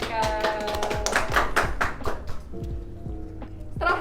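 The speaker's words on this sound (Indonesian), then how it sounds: "Tepuk tangan dong buat mereka." An audience applauds after a game segment at a student organisation event, with scattered sharp hand claps tapering off and voices mixed underneath.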